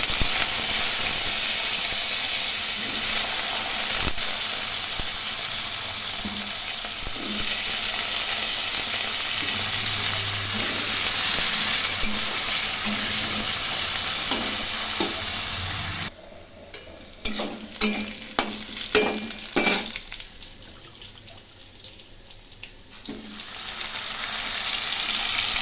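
Potatoes tossed into hot fennel-seed-tempered oil for a Bengali mixed vegetable curry sizzle and fry steadily, with stirring scrapes; the sizzle drops away partway through, leaving sparse clinks and softer crackle before building again.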